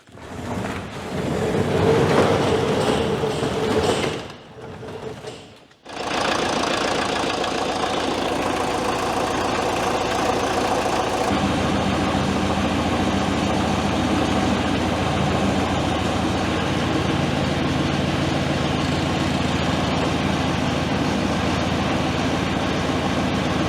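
A DIY mini loader engine runs at a steady idle, a continuous even drone that carries on alone after a short burst of louder rough running and a brief drop-out near the start.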